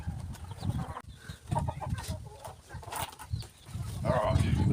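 Chickens cluck softly in a garden, scattered low calls and rustling close by, with faint voices in the background.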